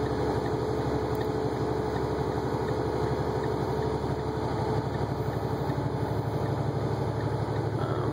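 A 2012 Freightliner Cascadia truck with a 445-horsepower Mercedes-Benz Bluetech diesel engine idles close by in a steady, loud, even rumble with a fast regular pulsing that holds unchanged throughout.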